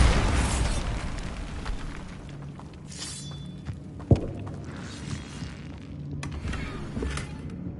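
A Bombarda blasting spell detonates in Hogwarts Legacy, with a crackling magical burst early on and a sharp, loud explosive crack midway, followed by lighter shattering and sparkling effects fading out.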